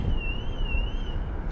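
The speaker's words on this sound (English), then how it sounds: "you can probably hear that car alarm going off in the background" Car alarm wailing in the background outdoors near London Heathrow, a single sustained wavering tone rising and falling faintly over a broad rumble, without voices.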